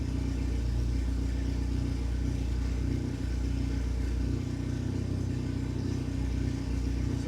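A car engine idles steadily at about 1,000 RPM, a loud, constant low rumble from close range that holds even and unbroken throughout with no speech.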